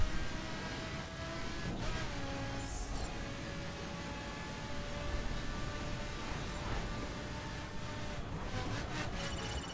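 A Lamborghini Huracan LP610-4 driven in The Crew racing game, its engine drone holding a sustained, steady tone with slight pitch shifts, fairly quiet and steady with no voices.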